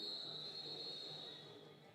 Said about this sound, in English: And the jam is whistled dead.